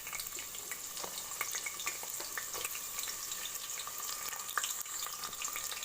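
Bay leaf and onion frying in oil in a pan for a spicy South Indian goat-head curry, giving a steady bright sizzle with occasional stirring scrapes, close and fairly quiet, with no voices.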